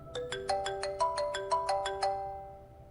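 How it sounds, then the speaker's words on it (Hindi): A mobile phone rings with a chiming melodic ringtone of about ten evenly spaced bell-like notes, fairly close and clear, then fades out with no voices. "माँ जी का फोन है।"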